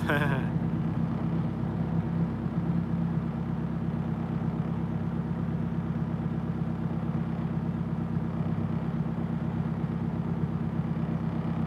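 A Nissan 240SX engine idles steadily with a low, continuous rumble throughout, close by and unchanging.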